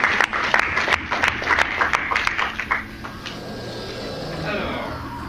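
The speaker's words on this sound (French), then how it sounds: "On applaudit aussi parce qu'il n'y a pas de raison" Applause from a French Halloween show audience, a burst of individual sharp claps that thins out after a few seconds and gives way to quiet murmuring room noise.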